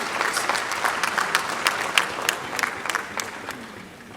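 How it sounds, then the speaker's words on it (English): An audience at a formal government event applauds a guest called to the microphone, a moderate crowd clapping with distinct individual claps popping out, fading slightly toward the end. "Let's give him a resounding applause"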